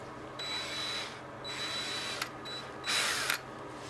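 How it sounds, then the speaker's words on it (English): Electric drill whirring in bursts during an upper and lower ball joint replacement on a car, with short pauses between runs; a steady high motor whine, close and fairly loud, no talking. "My electric drill."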